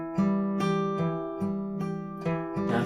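An acoustic guitar plays a riff slowly, with evenly spaced plucked notes about every half second ringing close and clear, alone.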